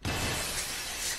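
Glass shatters in a video game: one loud, close burst of breaking glass that crashes in abruptly and then rings and scatters for about a second, with no voices over it.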